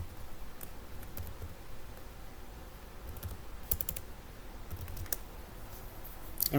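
Computer keyboard typing: soft, quick key clicks in short irregular bursts, close and fairly quiet, alone with no voices.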